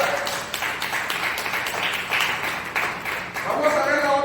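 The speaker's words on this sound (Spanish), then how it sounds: "Un aplauso al Señor." A church congregation applauds for the Lord, a steady wash of clapping with crowd murmur throughout, fairly near and moderately loud, swelling slightly toward the end.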